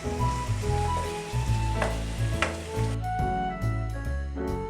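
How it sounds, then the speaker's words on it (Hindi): Garlic ginger paste sizzles and fries steadily in a pan for a chicken korma, a close, continuous crackle with light stirring scrapes and no talk. "लहसुन अदरक की पेस्ट को अच्छी तरह पकाएंगे"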